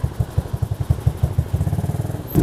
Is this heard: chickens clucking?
no